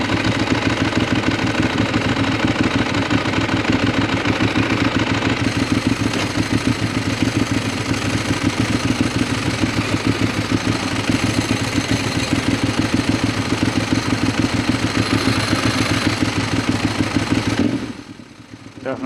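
A 2010 Ducati 1198S motorcycle with a dry slipper clutch runs steadily at close range, its loud, even engine throb and clutch clatter continuing with no talk until it drops away near the end.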